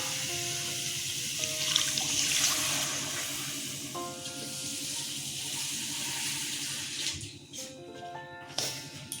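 Water poured into a pan of simmering vetki fish curry with potatoes, a steady close splashing gush lasting several seconds over faint kitchen clatter, tapering off near the end.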